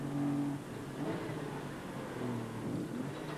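Race cars in 1997 British motorsport braking and accelerating through a chicane, engine tones dropping then rising again, mid-distance and moderately loud in a continuous wash of track noise.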